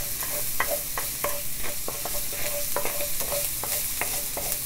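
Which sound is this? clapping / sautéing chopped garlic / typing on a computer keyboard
sautéing chopped garlic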